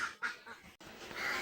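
Ducks quack near water after feeding, giving a few short nasal calls in a loose rhythm at moderate distance, with open outdoor ambience between them.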